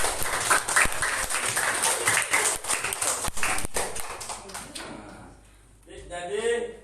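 A classroom of children claps for group 3, a dense burst of applause with lively voices mixed in that gradually tapers off, followed by a quieter stretch and a few spoken words.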